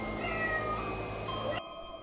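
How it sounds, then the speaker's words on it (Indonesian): A cat meows and caterwauls in a drawn-out, wavering cry, fairly close and clear, ending abruptly with no talk over it. "Itu emang suara kucing beneran."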